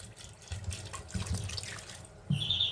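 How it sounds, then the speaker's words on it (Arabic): Water pours from a container into a pot, two liters being added for a honey syrup. Splashing and gurgling run steadily up close, then a brighter, steadier stream sounds near the end. "غادي نوضع الماء، عندي هنا 2 لتر ديال الماء"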